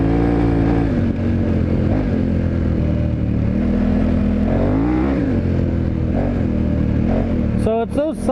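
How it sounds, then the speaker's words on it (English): Dual sport motorcycle on a Mitas E07+ tire, engine droning loud and close with the throttle twisted, pitch rising and falling through revs, a sharp rev burst at the very end. "I twist the throttle and that tire just steps out sideways"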